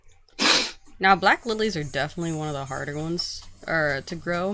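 A single sharp, breathy sneeze bursts out close to the mic, followed immediately by someone speaking in a calm conversational tone.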